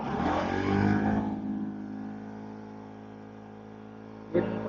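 Kawasaki motorcycle engine revving, which is slow to climb in RPM. A loud rev is heard first, then it settles to a steadier idle, with a short sharp blip near the end.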